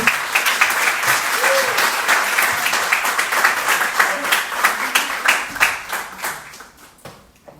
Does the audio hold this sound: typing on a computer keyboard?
no